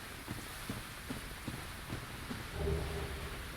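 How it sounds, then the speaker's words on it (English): Stormy weather in Dark Souls Remastered: a soft, steady wash of rain with faint scattered pattering and a low rumble of thunder swelling briefly near the end, all quiet and distant. "It's kind of a stormy area overall."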